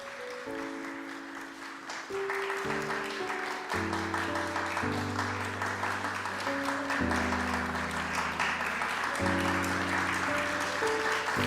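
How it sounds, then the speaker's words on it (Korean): Church congregation applauding during a Sunday worship service, a steady wash of clapping that swells after about two seconds and carries on beneath sustained, chord-like organ or keyboard music. "우리 다시 한번 박수해 주시고요."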